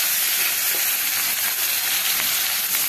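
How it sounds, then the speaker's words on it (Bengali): Onion paste fries loudly in hot oil, a dense, close, continuous sizzle and hiss with faint stirring, and no one talks. "এবার আমি এই তেলের মধ্যে পেঁয়াজের পেস্তাটা বানিয়ে নেব"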